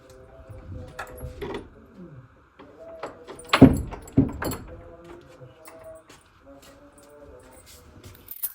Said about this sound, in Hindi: जाके दरवाज़ा खोले